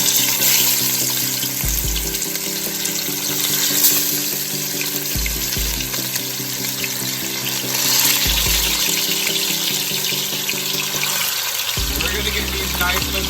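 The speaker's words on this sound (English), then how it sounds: "We're going to our pan and get these to start browning." Ham hocks, marinated overnight for a Jamaican-style recipe, brown in heated oil in a pan with a steady, close sizzle and crackle, broken by a few low thumps and scrapes as pieces are moved. No one speaks.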